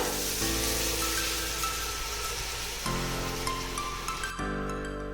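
Potatoes frying in a pot of oil for chicken biryani hiss into a loud, steady sizzle as water goes in, a broad continuous spatter close up with a few abrupt shifts, no voices.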